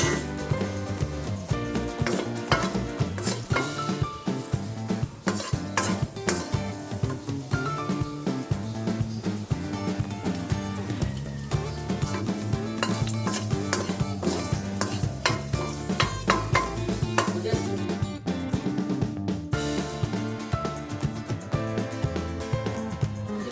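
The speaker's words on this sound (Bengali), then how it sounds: "নাড়বো।" Bay leaves stir in hot ghee in a pan, a steady crackling sizzle with frequent scraping and clinking of the spoon against the pan, close and continuous throughout.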